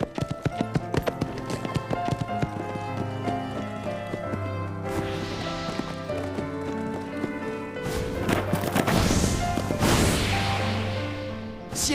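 Rhythmic hoof clip-clops of a cartoon horse under soft music, growing busier and louder with whooshing movement toward the end.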